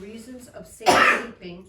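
A single sharp sneeze bursts out mid-sentence during a town council meeting, loud and close, with a voice reading aloud before and after it.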